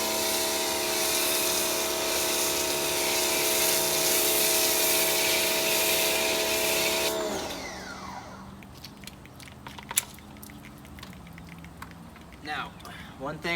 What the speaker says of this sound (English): So what we're going to do is just do a small section here and just spray the car down.